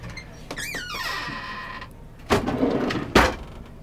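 A dish drawer in a camper van is pulled open, starting with a high rising squeak, then a sliding rattle and two sharp clunks as it stops, heard close up with no talk.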